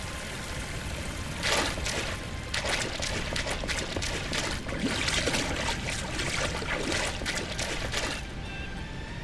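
Water streams steadily down a drainage canal in a ravine in the game Enshrouded, a continuous trickling and splashing flow in gentle pulsing bursts, with no voices.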